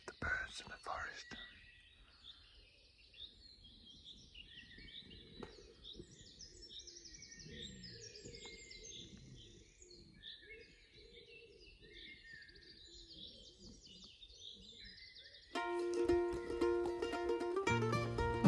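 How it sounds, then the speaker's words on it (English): Birds sing and chirp continuously around a tent pitched in a forest on Langeland, Denmark, with faint whispered speech underneath and a rustle near the end. "Just hear the sound of the birds in the forest."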